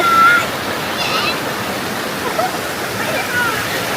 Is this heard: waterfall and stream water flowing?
yes